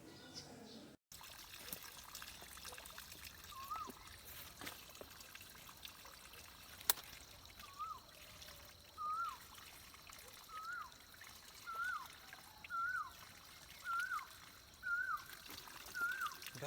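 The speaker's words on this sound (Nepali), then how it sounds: "अब यस्तो पानीमा हात धुनु पऱ्यो" Running water trickles and splashes as dirty hands are washed outdoors in a hill village, a steady low stream with intermittent splashes throughout, fairly close, with faint birdsong above.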